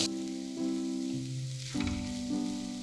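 Grated coconut fries in oil over a high flame, giving a soft steady sizzle with brief shifts in tone as it is stirred, close up and quiet, with no voices.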